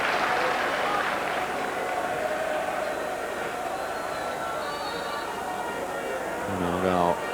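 Football crowd at a Plymouth Argyle versus Wycombe Wanderers match makes a steady roar of cheering and noise before a corner, while a commentator talks over it.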